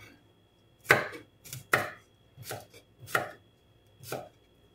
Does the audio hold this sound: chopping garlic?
yes